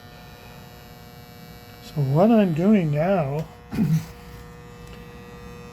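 A transformer on the 120 volt side, fed from an inverter, hums with a steady electrical buzz throughout, close and constant beneath someone speaking briefly.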